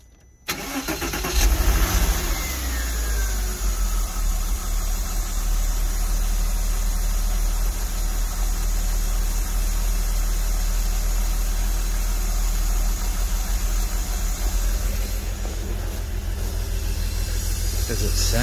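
A 2003 Porsche Boxster engine cranks and catches, then settles into a steady, loud, close idle with a low rumble that holds throughout, while a voice speaks over it at times.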